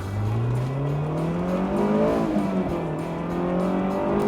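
A Honda S2000 engine revs steadily up to 7,000 rpm, its note climbing smoothly in pitch and holding loud and close throughout, with no talking.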